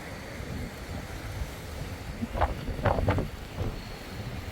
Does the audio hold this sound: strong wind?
yes